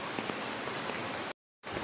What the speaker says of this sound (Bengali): সব বৃষ্টি তো